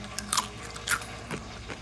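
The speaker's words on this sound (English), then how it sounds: "That was jicama, and it's got crunch." Deep fried jicama crunches loudly between the teeth, with three or four sharp, close bites and chews over a quiet background.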